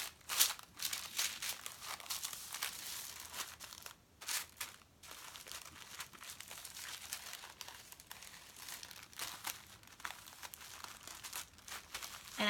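Tissue paper crinkles and rustles continuously as it is folded around a handmade notecard, with steady close-up crackling and a few sharper crunches throughout and no talking.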